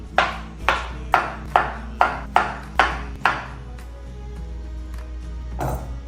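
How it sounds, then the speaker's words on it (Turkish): Knife chops strawberries on a cutting board in a steady rhythm, about eight sharp close taps, then a pause and one more. "İlk önce çilekleri doğrayarak başlayacağım."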